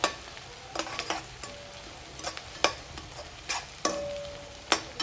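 Onions sautéing in a pan until golden for a Tamil fish curry, with intermittent sharp stirring scrapes and soft sizzling between them, close and fairly quiet.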